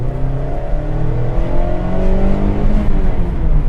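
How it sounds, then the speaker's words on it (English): A Mazda MX-5 with a dyno-tuned 2-litre twin-cam engine pulls hard under acceleration, its loud, close rising drone climbing steadily in pitch for several seconds. "if you put your foot down"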